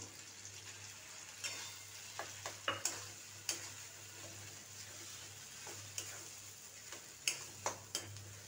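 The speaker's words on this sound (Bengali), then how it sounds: "এটা একটুখানি আমি সময় ধরে নেড়ে নেবো মিনিট দুয়েক সময় ধরে একটু নেড়ে নেবো" Grated coconut is stirred in a frying pan over a quiet sizzle and a steady hum, with sharp scrapes and taps of the spatula at irregular intervals.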